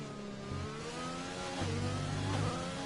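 Formula 1 car engine at full throttle in a racing video game, a steady high-pitched whine rising in pitch through gear changes, loud and close with no talk over it.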